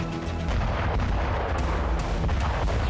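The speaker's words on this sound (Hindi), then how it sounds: "ये वीडियो ज़ेलेंस्की सेना के विस्फोट का है" Explosions from French Hammer bombs in a war zone, dense continuous rumbling blasts and booms with sharp cracks, loud and distorted without pause.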